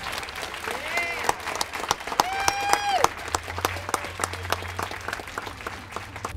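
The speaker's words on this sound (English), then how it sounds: "please give them a big round of applause" Audience at a Women in Government awards ceremony applauding award recipients, sustained clapping under a voice that talks and sings over it.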